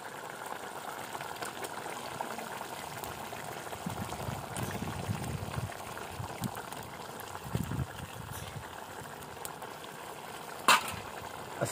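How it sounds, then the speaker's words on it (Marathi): Malvani prawn masala gravy bubbling in a pot over a wood-fired clay stove, a steady soft boiling rumble with faint liquid gurgles and a brief clink near the end. "तर मस्त उकळी आलेली आहे"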